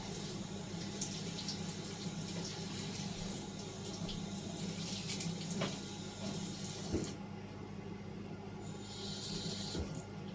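Greens are washed under a steady stream of hot tap water, a constant close hiss and splash over a sink with occasional small knocks.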